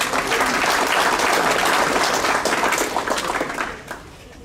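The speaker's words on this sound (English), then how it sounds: "Let's give them another round of applause." Sustained applause from an audience at a school district staff awards ceremony, dense steady clapping that swells then thins out toward the end.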